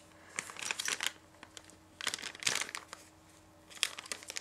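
Plastic bags, one packed inside another, crinkle in several close, loud bursts while DJI Osmo Pocket accessories are unpacked, with quiet pauses between the rustling handfuls.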